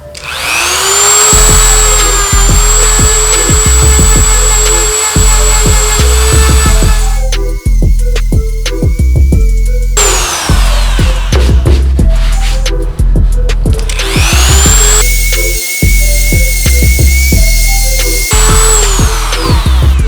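A rotary wire brush on a power tool distresses a denim jacket, with a loud, sustained motor whine that rises and falls as the brush grinds against the fabric in long passes separated by short breaks.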